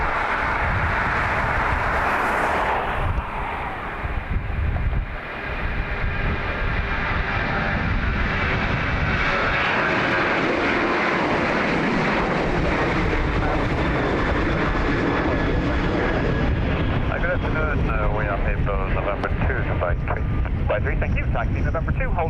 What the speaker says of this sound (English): this 747 could do a sharp turn and make a tumbleweed out of me